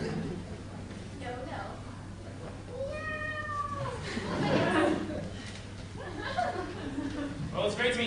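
On a high-school drama club stage, a performer's voice imitates a cat with a drawn-out rising and falling meow, followed by chuckling and laughter and more talking.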